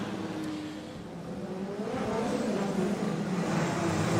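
High-revving engine of a drift car during a Formula Drift battle run, a loud continuous roar that rises in pitch and intensity through the run, with tire and crowd wash behind it and no talking.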